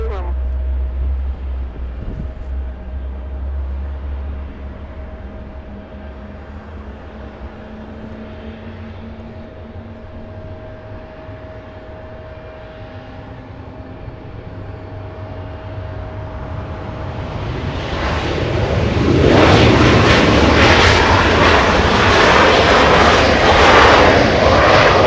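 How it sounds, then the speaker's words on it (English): Delta Airbus A350 jet engines spool up at an airport, a low rumble under faint talk that swells into a loud, broad roar over the last seconds. "let's hear the startup of the engines."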